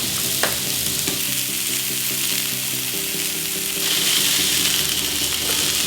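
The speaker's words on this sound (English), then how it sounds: "you want this pan absolutely ripping hot heat, and you should put your 3 sliders down" Three beef burger sliders sizzle hard in a very hot pan, a loud, steady frying hiss with faint crackles throughout and no talk.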